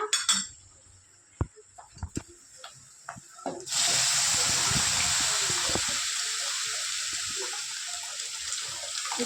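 A few clinks and knocks of kitchenware, then a steady stream of rinse water poured from a pot into drumstick leaf dal curry keeps running, close and fairly loud.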